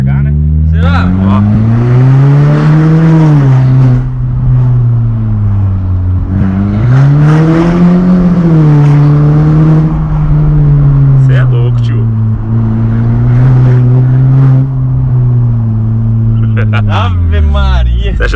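An Audi Sportback with a straight pipe and no exhaust muffler revs hard, a loud, deep engine roar that swells and falls in repeated pulls close by, with people talking over it.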